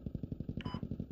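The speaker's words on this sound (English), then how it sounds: "You can hear the MRAP close to your southeast." An MRAP armored vehicle engine in a military video game throbs nearby as a rapid, steady, low pulsing rumble, with a brief higher mechanical whine partway through and no talking.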